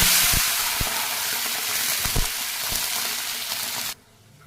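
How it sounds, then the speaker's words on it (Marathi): Water poured into a hot pan of cumin, asafoetida and ground chilli, garlic and coriander paste sends up a loud, steady hiss with a few stirring clicks, then the sound cuts off abruptly near the end. "आता याच्यामध्ये आपण घालणार आहोत पाणी,"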